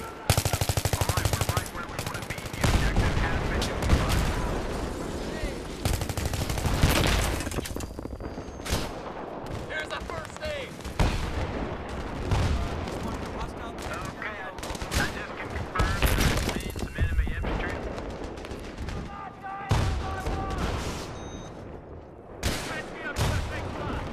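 A dense video game battle on Nebandan Flats with continuous machine-gun bursts, rifle shots and heavy armor fire, loud and layered throughout, with voices talking under the shooting.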